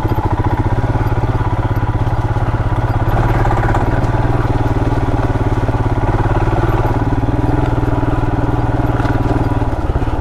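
A Royal Enfield Himalayan on Dunlop and Pirelli tires rides a muddy off-road trail at Bobblet's Gap. Its engine drones loud and close, a steady thumping rumble that holds throughout with no talk.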